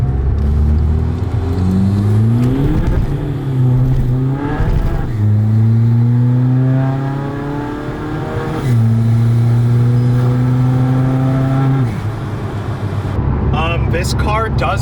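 A big-turbo, nitrous-fed common rail TDI car accelerates hard through a tunnel with wheel spin, the engine note climbing in repeated rising pulls through gear changes, loud, close and echoing, ending in a brief squeal.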